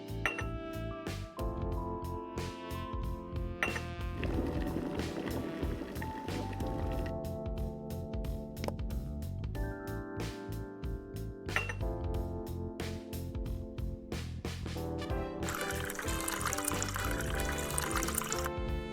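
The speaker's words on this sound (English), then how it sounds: "Pour hot water into the spout and from there into the mug." Hot water pours from a water boiler's spout into a mug in a cozy cafe video game, a steady liquid stream running under continuous tinkling background music.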